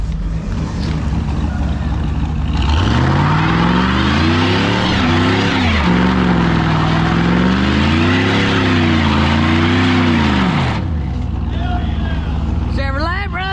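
A supercharged Corvette doing a burnout, its engine revving loud and close as the rev pitch climbs, dips and rises again over a hiss of spinning tires, with voices mixed in underneath.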